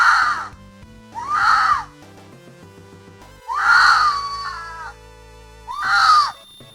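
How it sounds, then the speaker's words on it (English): A fox and a stray cat fighting at night: four drawn-out, wailing screams, each rising and falling, with short pauses between them over a quiet musical background. "There was a stray cat getting into a fight with a fox."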